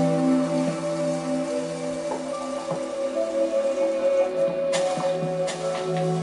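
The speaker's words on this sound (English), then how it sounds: "It's raining, that's the whole time." Rain in Minecraft patters on a surface beneath a sustained humming tone, with occasional louder drops and clicks.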